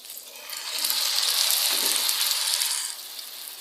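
Chopped tomatoes hit a pan of frying onions and garlic, setting off a bright, steady sizzle that swells and then settles over a few seconds.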